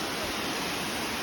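Falling water at the Lydford Gorge waterfall, Dartmoor, pours in a constant loud white-noise roar, heard up close and uninterrupted for the whole short stretch.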